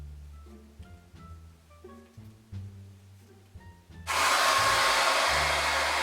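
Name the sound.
hair dryer blowing on full heat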